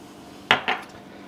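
Two quick metallic clinks of a utensil against a bowl while seasoning for baked parmesan potato wedges is mixed, sharp and close, then quiet room tone.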